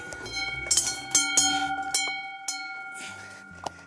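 A bright metallic bicycle bell rings several times in quick bursts, clear and close, with sustained ringing tones between strikes, on a farm in Val d'Anniviers.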